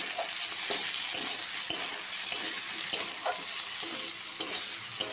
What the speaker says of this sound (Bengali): কিছুটা পরিমাণে হলুদ আর কিছুটা পরিমাণে লবণ দিয়ে এটাকে ভাজবো আলুটাকে